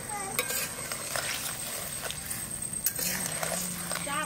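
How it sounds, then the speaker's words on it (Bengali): Rohu fish pieces frying in a pan of spicy red curry, a continuous sizzle broken by occasional clinks and scraping stirs of a spatula, close by, with faint voices in the background. "এবার মাছগুলো দিয়ে দেবো।"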